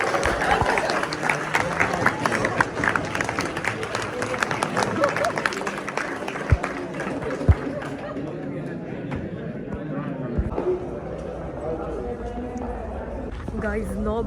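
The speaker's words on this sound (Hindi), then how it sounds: "ताली।" Students at a night-school session clap together, a crowded burst of applause mixed with chatter and voices talking over it, thinning out toward the end.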